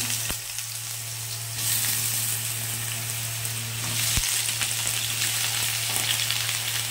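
Dried red chillies fry in hot oil and are stirred, giving a steady close sizzle with scraping stirs and a few sharp clicks throughout, no talking.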